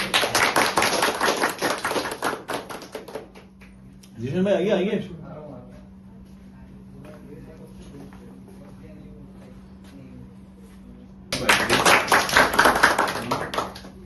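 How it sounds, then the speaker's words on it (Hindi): An audience at a poetry recital breaks into applause twice, a loud burst of many hands at the start and again near the end, separated by a quieter stretch where someone speaks over faint room noise. "यार ईशान की तालियां बजा दो यार"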